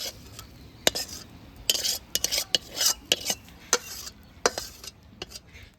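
Vegetable khichuri being stirred with freshly added gravy, a spoon clinking and scraping against the pot in irregular bursts over a low sizzle, close and fairly loud.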